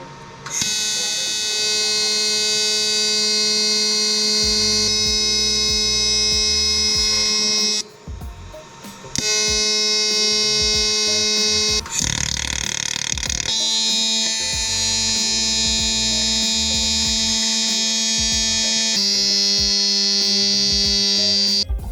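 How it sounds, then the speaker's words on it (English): TIG welding on a Subaru EGR valve area gives a steady, loud, buzzing electric hum with a high whine, broken by brief pauses and restarts as the arc stops and strikes again. "I've gone ahead and welded up my EGR bone area there."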